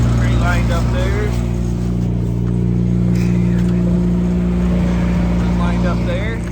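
Engine of a 1966 International Scout idling steadily, a loud constant low rumble close by with people talking over it throughout.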